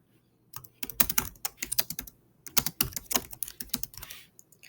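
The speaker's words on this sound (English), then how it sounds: "So I'm going to type that." Rapid typing on a computer keyboard, two bursts of close, crisp key clicks separated by a short pause, with no talking.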